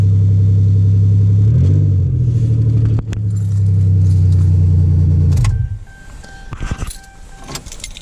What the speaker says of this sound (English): One quick rev.